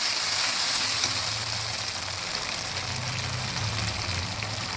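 Mustard and poppy seed paste with green chilli and salt being stirred into spiny gourd frying in a pan, giving a steady, close sizzle with faint scraping throughout.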